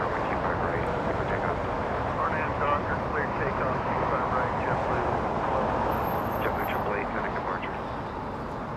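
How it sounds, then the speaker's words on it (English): A UPS 9300 cargo jet departing Los Angeles International Airport for Ontario, its engines a steady, broad roar held close and loud throughout, with faint distant chatter beneath. "UPS 9300 flying to Ontario"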